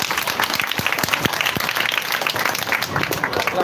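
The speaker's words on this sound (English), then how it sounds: "Now clap for her." An audience at a school facility handover ceremony claps steadily for several seconds, with sharp hand claps standing out over a dense patter, and some voices mixed in.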